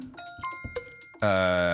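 A game show gong sounds once, a loud sustained ringing tone that follows a few brief electronic chimes and holds steady to the end.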